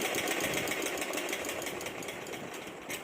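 A sewing machine stitches blouse fabric in a rapid, steady mechanical whir with fast repeating clicks, close and continuous, with no talk.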